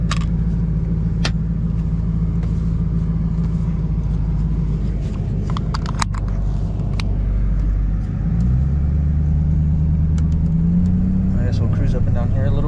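A Lexus car with a cracked rim cruising along a road near bluffs, its steady low engine and road rumble continuing throughout, with a shift in engine tone partway through and a voice talking over it.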